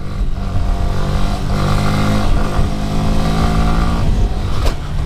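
A motorcycle engine revs loud and close during a wheelie in an empty stunt lot, holding a steady high drone that rises and falls slightly, with one sharp spike near the end.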